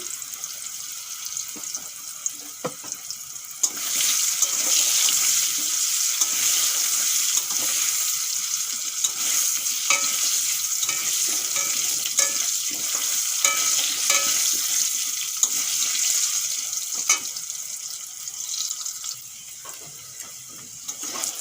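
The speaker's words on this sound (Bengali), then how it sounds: "আলু একটু ভাজা হয়ে গেছে" Potatoes fry in hot oil with turmeric and salt, a steady, fairly loud crackling sizzle running throughout, with occasional stirring clatter and scraping and no voices.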